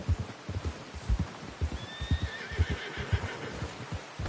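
A horse whinnies in a video game, a bright rising neigh in the middle over a steady rhythm of hoof clip-clops, with no one speaking.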